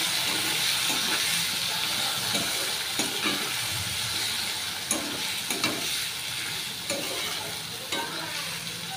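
Chopped onions fry in hot oil in a pan, a loud steady sizzle and hiss running throughout with occasional spatula knocks and scrapes close by, no voices.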